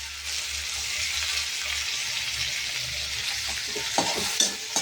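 Tomatoes added to softened onions frying in a pan, a steady close sizzle with light stirring and a few soft utensil scrapes toward the end, no talk.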